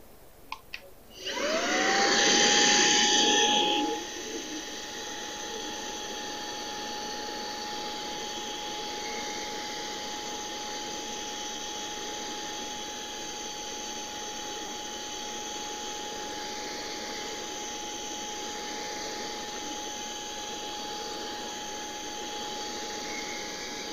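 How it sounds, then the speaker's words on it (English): A Musu battery-operated vacuum cleaner with a brush attachment cleans the pre-filter of a Coway Airmega AP-1512HH air purifier. It spins up loudly, then settles into a steady, close, high-pitched whine that runs unbroken for the rest of the clip. "to clean the pre-filter, I'm going to use the Musu battery-operated vacuum cleaner"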